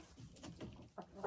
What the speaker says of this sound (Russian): Это петушок Амераукана. Ему 5 месяцев.